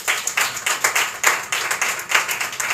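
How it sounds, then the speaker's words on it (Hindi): A church congregation claps loudly for a young girl during a sermon, a close, lively run of overlapping claps with uneven bursts and no speech. "बेटी के लिए जोरदार तालियां बजाएं"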